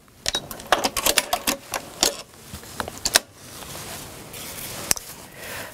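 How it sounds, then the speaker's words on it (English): Sewing machine stitching along a line on foundation paper for a paper-pieced quilt block, heard as quick rattling bursts of needle strikes in the first few seconds, then quieter handling and one sharp click. "You stitch right along the line, and I go about a quarter of an inch over."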